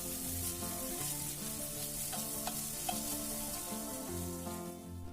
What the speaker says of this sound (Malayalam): ഇനി ഇതെല്ലാം നമുക്കൊന്ന് വഴറ്റി കൊടുക്കാം.